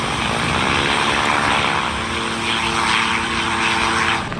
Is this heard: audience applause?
no